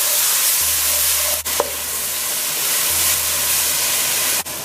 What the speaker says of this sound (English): my oil is hot, so I'm going to add the masala mixture